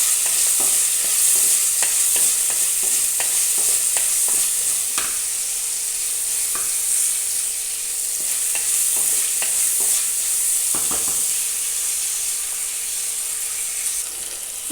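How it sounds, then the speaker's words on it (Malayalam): Green chilies frying in a hot pan, a steady close sizzle broken by repeated scraping stir strokes, continuous and fairly loud throughout with no talking. "അതേപോലെ തന്നെ പച്ചമുളക് ഇട്ട് കൊടുക്കുന്നുണ്ട്. അതും കൂടെ ഒന്ന് മൂത്ത് വരട്ടെ."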